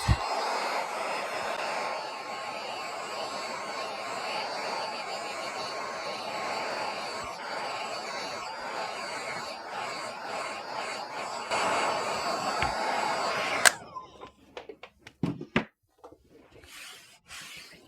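A hair dryer runs steadily for around thirteen seconds, blowing a loud, even whoosh over wet paint, then cuts off abruptly. A few light clicks and handling noises follow in the quiet.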